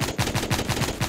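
Machine gun firing in a video game, a fast, even stream of about eight loud, close shots in just over a second, with no voices over it.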